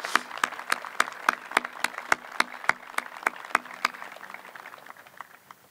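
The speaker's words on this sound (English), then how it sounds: "I will ask you to indulge me with a round of applause for the faculty and for the educators of these" Scattered, sparse clapping from an audience at a 2016 battalion commissioning ceremony, honoring faculty and educators; individual claps ring out in a steady, thin rhythm and fade toward the end.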